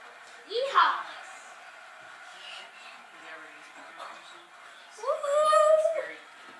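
An Easter puppy gives two high, wavering whimpers, one early and a longer one near the end, close and fairly clear with quiet background between.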